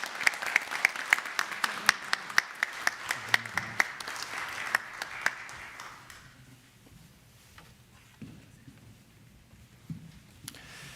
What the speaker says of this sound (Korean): 힘차게 축복의 박수 해주시겠습니다